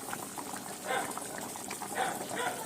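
A pot of Telugu-style fish curry (chepala pulusu) with cloves and ginger paste bubbles steadily on the stove, a soft continuous boiling hiss with a few louder swells of bubbling.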